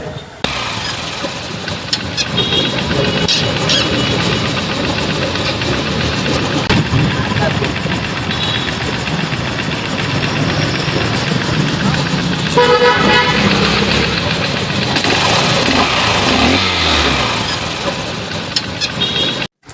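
A Honda Shine motorcycle runs after a carburetor replacement, its engine droning steadily and close in a home garage for the whole stretch, with a brief rise in revs near the middle.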